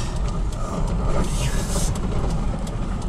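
A 1997 Toyota Land Cruiser FJ80 with a carbureted engine and a small exhaust leak drives along, a steady loud engine drone with road rumble throughout.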